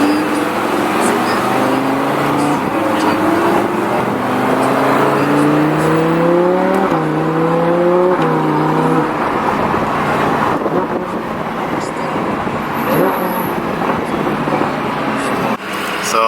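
Lamborghini Huracan engine pulling hard, its pitch climbing in repeated rising sweeps with breaks between gear shifts, then settling into a steady roar with heavy wind rush throughout.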